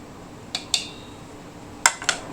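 Fork clinking against a plate of buffalo chicken salad with lettuce and bacon, four short sharp metallic taps in two pairs, near and fairly quiet with no talking.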